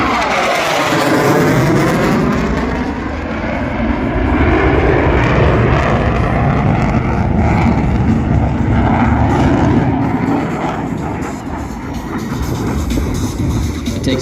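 An F/A-18 Super Hornet jet roars loudly overhead at an airshow, a sustained powerful engine rumble with a sweeping pitch shift as it passes close by.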